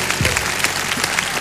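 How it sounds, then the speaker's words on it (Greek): A studio audience claps for a singer after his performance, brief dense applause heard up close without speech. "Δώστε ένα χειροκρότημα στο Γιάννη μας."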